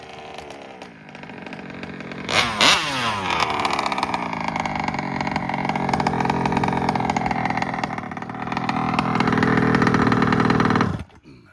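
A motorcycle engine with a slipping clutch revs up sharply, dips, then holds a loud buzzing drone with wavering pitch before cutting off abruptly at the end.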